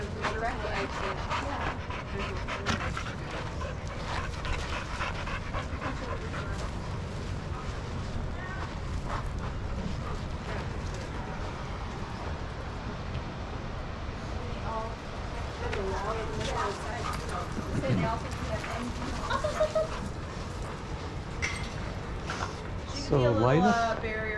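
Dogs at a daycare pant, whimper and yip close by amid constant busy shuffling and background voices, with a few higher whines near the end.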